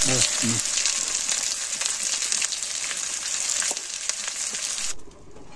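Potatoes sizzle and fry in a pan with a steady, close hiss and faint clatters of stirring. A voice is heard briefly at the very start, and the hiss cuts off near the end.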